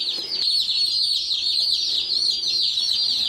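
Baby chicks peep and cluck in a brooder with a heat plate, a steady stream of shrill, overlapping calls filling the space close by, with no pause throughout.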